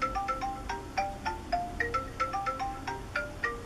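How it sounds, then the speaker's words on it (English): A phone's text message alert plays a short, bright chiming melody that repeats several times in a steady rhythm. It sounds close and moderately loud, with no talking over it. "Excuse my phone, my son is texting me."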